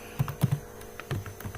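Keys are tapped on a computer keyboard while a program is written, a short close burst of several uneven clicks with no talk.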